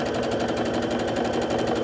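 A sewing machine runs steadily while stitching a quilt strip for a table runner, its needle chattering in a fast, even rhythm that stays loud and close, with no talking over it.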